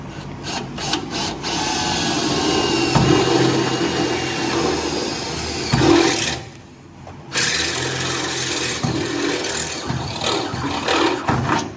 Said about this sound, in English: So I'm going to drill these holes.